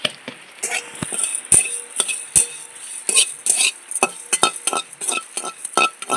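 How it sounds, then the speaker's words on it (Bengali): Whole coriander, cumin, a bay leaf and cinnamon dry-roast in a pan for Kashmiri aloo dum, with a utensil clinking and scraping in an irregular rhythm of sharp taps and stirs, close and alone. "দমের জন্য আমি কিছু মশলা একটু ভেজে নেব।"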